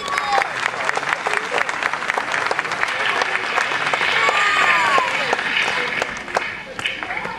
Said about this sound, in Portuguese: o vosso aplauso para o grupo de teatro Dispar